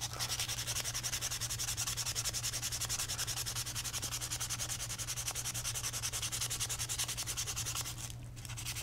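Sandpaper rubs rust off a metal part from an Atari joystick in steady, rapid back-and-forth strokes. The scratching is close, even and continuous, with no voices.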